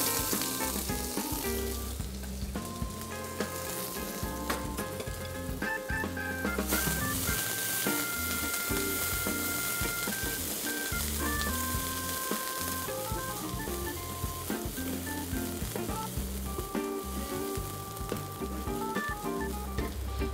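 Onions fry in butter mixed with vegetable oil for a pea soup, making a steady sizzle. Melodic background music plays over it throughout.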